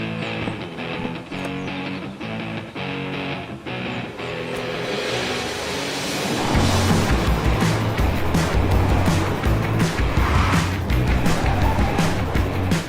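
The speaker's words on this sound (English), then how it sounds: "take this all-new Honda Civic out for a spin around this beautiful track" An all-new 2022 Honda Civic e:HEV hybrid, 2-liter petrol engine paired with electric motors, driving around a race track in Spain; a low engine drone builds and grows louder and rougher as the car accelerates, with no talk.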